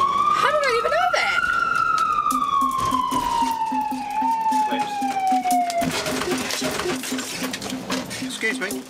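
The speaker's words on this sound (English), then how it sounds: "That changes the siren." An emergency vehicle siren wails nearby, one long tone sliding slowly downward, then a rapid pulsing yelp pattern takes over, with people talking over it.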